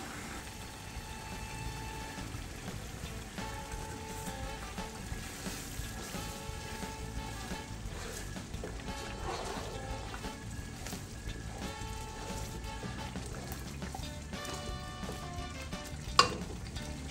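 Okra soup sauce with stock cube and adobo is stirred in a pot, giving continuous bubbling sizzle with wet scraping and clinking of the spoon throughout, and one sharp tap near the end.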